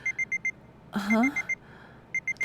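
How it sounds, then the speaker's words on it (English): Alarm clock ringing in a visual novel video game: short repeated electronic beeps in quick bursts, broken by a brief louder swoop of sound, then the beeping resumes clear and alone. "Just then, the alarm goes off."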